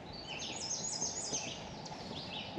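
Birds chirp and sing in a forest at Starved Rock, several high trilling calls overlapping over a soft steady background, no voices.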